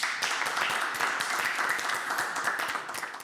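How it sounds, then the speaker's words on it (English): Audience applause at a live startup pitch event, a short burst of dense, steady clapping from a crowd that tapers near the end. "Round of applause."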